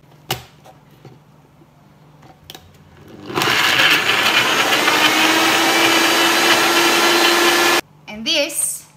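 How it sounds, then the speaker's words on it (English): A blender blitzing cauliflower into cauliflower rice runs loud and continuous for about four seconds, after quiet kitchen clatter, then cuts off abruptly. "I'm just gonna put them in the blender and blitz them up, and it's gonna make like cauliflower rice"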